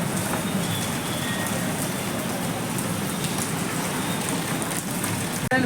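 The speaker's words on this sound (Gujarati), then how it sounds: "ફૂલ વરસાદ આવે છે પણ તમે જોઈ શકો છો" Heavy rain pours steadily onto the ground and surfaces nearby on a wet day, a dense unbroken hiss with no voices and a brief bump right at the end.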